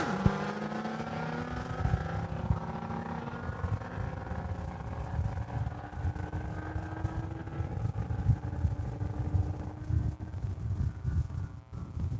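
A pickup truck and a Suzuki motorcycle launch side by side in a street-legal drag race at a strip, engines roaring with rising, sweeping pitch as they accelerate away, loud and continuous throughout.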